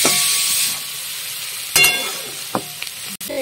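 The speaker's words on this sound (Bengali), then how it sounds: "লাউ চোখলা, উচ্ছে, আলু দিয়ে আমি ভেজে নিলাম।" Bitter gourd, potato and bottle gourd peel fry in a pan with a steady sizzling hiss, broken by a few brief clatters and scrapes near the end.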